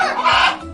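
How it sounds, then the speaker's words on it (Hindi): Hens cluck in one short, busy burst of farmyard calls, close and fairly loud, with no voices. "हेन्स यानी मुर्गियां"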